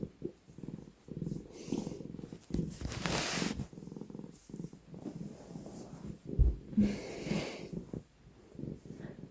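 A cat purring loudly and close by, a steady rumbling drone that runs through the whole stretch with small breathy variations, a brief burst of rustling noise midway, and no talking.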